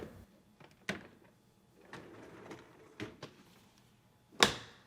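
LG dishwasher lower rack rolled back in and the door shut: a series of quiet clicks, rattles and rolling thumps, ending in one sharper, louder latch closing, with no talking.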